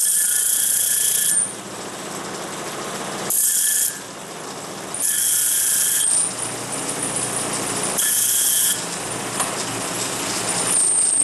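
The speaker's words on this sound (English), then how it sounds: "So we're just going to deburr all these burrs on the holes." Machined knife parts having their drilled holes deburred in a knife-making shop, heard as a loud, steady mechanical whir that drops in level and returns in alternating stretches, with no talking.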